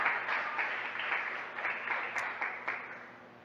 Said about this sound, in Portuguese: Aplauda Jesus, que ele merece.